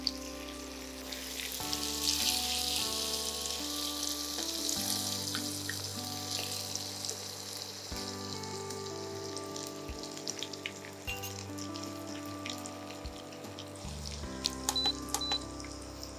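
Nutty chicken pieces frying in oil over low heat, a soft continuous sizzle with scattered light clinks and taps from handling the pan, heard close with no talking.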